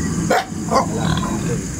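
A pig at a rural roadside accident site in Bukidnon gives two or three short grunts, close but mixed into a steady wash of background noise, with no clear speech.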